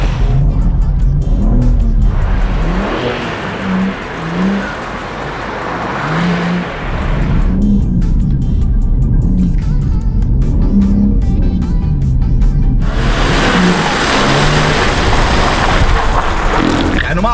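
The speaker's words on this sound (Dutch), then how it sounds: "We bevinden ons momenteel in de BMW M2." BMW M2 of nearly 500 hp revving hard on a drift circle over a loose surface, with a loud, continuous engine note rising and falling in repeated surges, briefly easing midway before climbing again.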